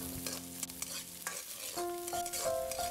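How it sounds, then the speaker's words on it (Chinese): Scallion, ginger and garlic crackle and sizzle in hot oil in a wok as a spatula scrapes and tosses them, a loud, close stir-fry hiss with brief metallic taps and no voices. "把葱姜蒜先爆香"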